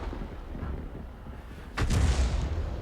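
A 105 leFH18B2 self-propelled artillery gun fires one loud, booming shot in World of Tanks. The sound comes after a low, rumbling lull and rolls on afterward.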